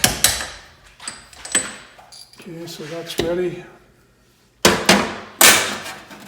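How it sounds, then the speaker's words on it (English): Several sharp metallic taps of a hammer striking a punch to knock up a cap while installing a Dal Soggio RS kit, spaced irregularly and loud up close, with someone speaking briefly between them. "you just need a little punch and a hammer to knock this cap up"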